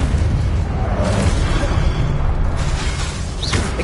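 Confringo spell blasts in Hogwarts Legacy: continuous loud booming, crackling explosions with whooshing bursts, dense and sustained from start to finish.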